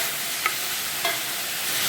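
Onions with salt frying in a pan, stirred with a couple of brief scrapes over a steady low sizzle, close and moderately quiet, with no talk.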